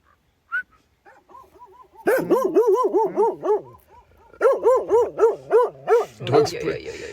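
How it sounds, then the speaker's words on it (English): Several friendly dogs greet campers at a campsite with a run of rhythmic, close, loud barks and yips, starting with scattered short woofs and whimpers, then two bursts of steady repeated barking. "Dogs pretending to be tough, but they're so nice."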